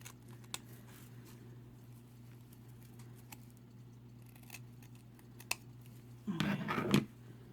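Scissors trim a ribbon bow on a Christmas wood block candle centerpiece: a quiet stretch with a few faint ticks, then a brief crisp burst of snipping and crinkling near the end.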